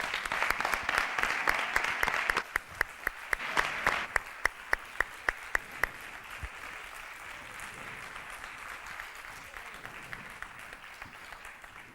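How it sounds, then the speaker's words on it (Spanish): Applause from an audience at a communications conference talk, loud and full at first, then giving way to a run of separate sharp claps that thin out into a quieter, scattered patter. "Un fuerte aplauso."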